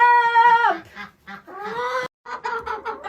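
Chicken clucking inside a chicken coop on a farm, several loud, close, drawn-out clucks and squawks in irregular bursts with a short pause, with no talking.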